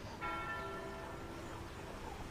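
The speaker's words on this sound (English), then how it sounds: "I like the bells." Church bells ring with sustained, overlapping metallic tones that swell in near the start and linger steadily, moderately distant, with no talk.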